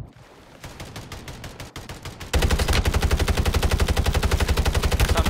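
Video game gunfire: sporadic shots build into sustained rapid automatic fire, loud and close, with a dense, fast rhythm of bursts through the second half.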